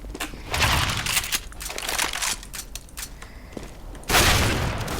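Gunfire crackles in a Counter-Strike: Global Offensive deathmatch, with loud, rapid bursts and scattered single shots trading back and forth, then a heavy blast of fire near the end.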